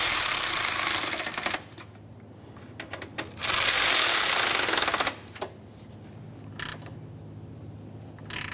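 A ratchet whirs in bursts while snugging radiator mounting bolts on a 1994-1997 Honda Accord 2.2L, loud and close, with two long spins separated by quieter pauses and scattered clicks.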